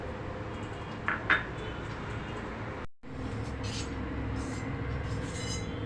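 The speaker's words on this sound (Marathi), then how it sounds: "याप्रमाणे आपण बारीक तुकडे करून मिक्सरमध्ये ग्राइंड करून घेणार आहोत" A kitchen mixer grinder whirs steadily and loudly while grinding small pieces of tender coconut, with a brief cut in the motor noise midway before the grinding resumes.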